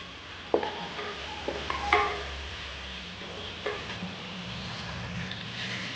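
Sautéed onions being stirred in a pan for Kerala-style chicken curry, with a few scattered scrapes and clinks of a spoon against the pan over a low sizzle, fairly quiet.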